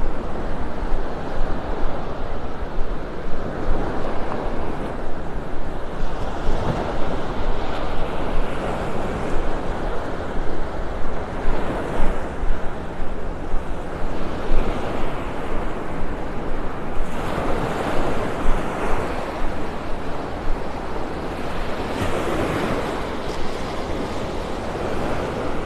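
Ocean surf rolling onto the sand at Vanderbilt Beach in North Naples, a steady, loud wash of breaking waves with wind buffeting the microphone throughout.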